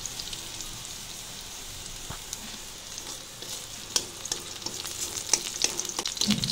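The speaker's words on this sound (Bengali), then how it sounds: "রসুনটা লাল করে ভেজে নিচ্ছি" Garlic and radish frying in mustard oil in a pan, a soft continuous sizzle with scattered crackles and pops that grow busier toward the end, close and without talk.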